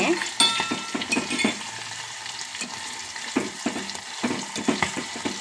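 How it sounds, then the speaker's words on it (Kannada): A spoon stirs frying fish in a sizzling pan, a steady hiss of hot oil broken by repeated scraping and clinking strokes against the metal, close and fairly loud, with no talking. "ಸ್ಪೂನಲ್ಲಿ ತಿರುಗಿಸೋಣ ಒಂದು ಟೂ ತ್ರೀ ಮಿನಿಟ್ಸ್ ಅಷ್ಟೇ"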